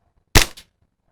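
A Double Bell Infinity Hi-Capa 5.1 airsoft pistol fires one sharp, close pop during an FPS test, followed by a quick mechanical clack, then silence.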